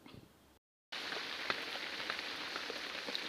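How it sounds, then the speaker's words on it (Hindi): Steady rain falling on a surface, a dense, even patter with scattered sharper drops, fairly close and continuous after a brief silent break, with no voices. "वो बारिश का आवाज़ है"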